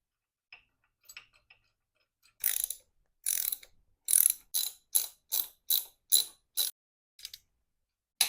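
A ratchet wrench clicks on the motor of a 1989 Harley Softail Evo, heard as a series of about a dozen sharp, evenly spaced ratcheting strokes, close and clear with quiet gaps.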